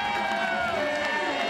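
A crowd cheers loudly for a Spanish mountain bike rider at the finish of a men's cross-country World Cup final in Val di Sole, a dense roar of voices under excited commentary.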